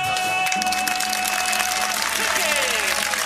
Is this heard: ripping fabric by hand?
no